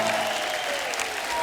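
A studio audience breaks into loud, continuous applause welcoming a singer onstage at a show, a dense wash of clapping with background music under it.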